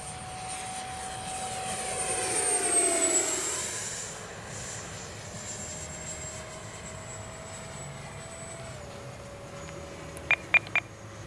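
A Freewing F-22 RC jet flying overhead, its ducted-fan whine swelling as it passes close and then fading to a steady distant drone, with a few short beeps near the end.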